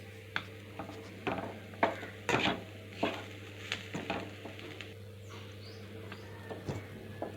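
Coconut curry stirred in a pan with a spoon, giving a string of separate scraping and clinking strokes over a steady low hum, each stroke close and moderately loud, irregularly spaced.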